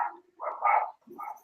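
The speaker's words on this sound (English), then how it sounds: "Oh, now the dogs start barking." Dogs barking in short bursts, a few separated woofs and yips close by, with quiet gaps between them and no talk over them.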